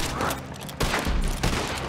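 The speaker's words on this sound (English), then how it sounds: "let's use this revolver" Red Dead Online revolver fire rings out in quick successive blasts amid a dense, loud wash of gunfire and noise, no voices over it.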